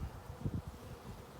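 Honeybees buzz faintly around a crowded hive in a low, fluttering drone with a few brief swells.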